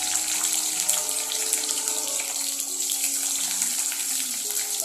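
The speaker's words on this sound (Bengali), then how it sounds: "এই পেঁয়াজ আর ক্যাপসিকাম হাই ফ্লেমে 1 মিনিটের জন্য আমি ভেজে নেব।" Chopped onions and capsicum frying over high flame in hot oil left from frying paneer for kadai paneer: a steady, loud, continuous sizzle and hiss heard close up with no talking.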